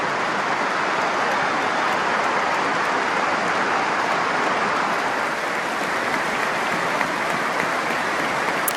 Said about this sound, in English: It's applause to this footballing legend.